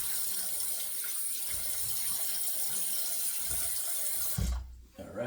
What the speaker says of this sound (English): we'll wet the head here and rinse off